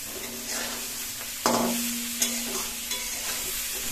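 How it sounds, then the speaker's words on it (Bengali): Cauliflower and potatoes sautéed in a pan, with a steady oil sizzle broken by a sharp scrape of a spatula and a few lighter stirring knocks. "আমরা জাস্ট এখন এখানে খুব সুন্দর করে ফুলকপি এবং আলুগুলো কষিয়ে নেব, মোটামুটি 2-3 মিনিট ধরে।"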